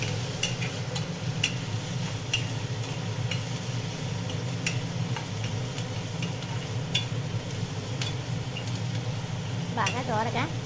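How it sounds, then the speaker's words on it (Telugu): Onion pieces fry in plenty of hot oil on high heat for a Telugu gram-flour chutney, a steady dense sizzle with scattered crackles and occasional stirring scrapes, close and continuous with no talk. "హైలో పెట్టి కొంచెం ఆయిల్ ఎక్కువ వేసి ఉల్లిపాయ ముక్కల్ని బాగా ఏగనివ్వాలి"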